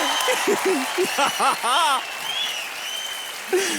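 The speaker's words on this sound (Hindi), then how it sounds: "चलो ताली हो जाओ" Studio audience applauding on a Hindi TV game show, a short burst of clapping beneath energetic overlapping speech and harmonic vocal exclamations, loud and close throughout.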